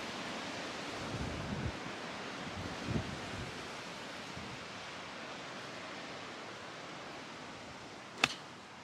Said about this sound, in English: And it's the windiest day ever.